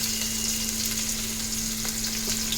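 Onions fry in hot oil in a cooking pot with a constant, close, bright sizzle and faint popping, while a steady low hum runs beneath.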